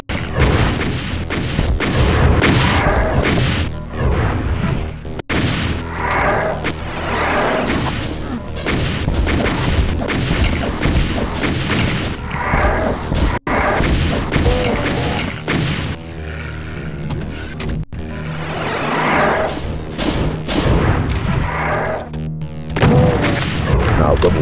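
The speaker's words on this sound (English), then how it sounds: "More explosions!" Repeated booming explosions and gunfire crash in quick succession, loud and dense, with a voice speaking now and then amid the blasts, in the video game Doom 2.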